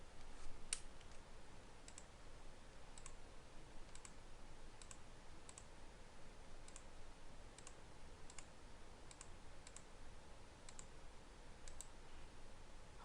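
Computer mouse clicks while working in AutoCAD: a dozen or so sharp, quiet single clicks at irregular intervals over a faint steady room hiss, close by, with no talking.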